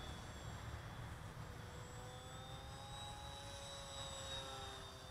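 A HobbyKing Bix3 RC plane flies some distance off, its electric motor a faint, steady whine whose pitch slowly glides up and down over low wind noise.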